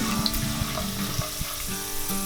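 Cashew nuts fry in hot oil in a pan for lemon rice, a dense continuous crackling sizzle with soft pops and faint clinks throughout.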